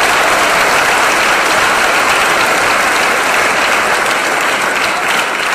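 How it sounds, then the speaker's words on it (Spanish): Dense, loud audience applause at a political talk, a continuous wash of many hands clapping at once for several seconds without a break. "Merece un aplauso, claro que merece un aplauso,"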